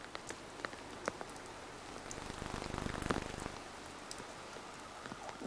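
Heavy summer rain pouring down outdoors at a football training ground, a steady dense hiss of drops on surfaces with scattered closer splats, rising briefly mid-way, no voices.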